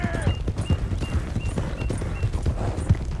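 Horse hooves gallop in the Red Dead Redemption 2 video game as a fast, steady clip-clop, loud and close, running continuously with faint voices in the background.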